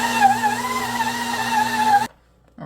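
Steady, loud motor whine of a stand mixer kneading chocolate cinnamon roll dough in third gear, holding an even pitch for about two seconds before cutting out abruptly into near silence.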